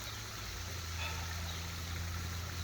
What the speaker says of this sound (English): If you've ever had a fish pond and you have like the waterfall like I do